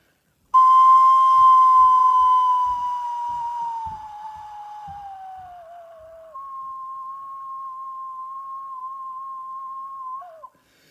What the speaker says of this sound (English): if you blow lower, the pitch gets lower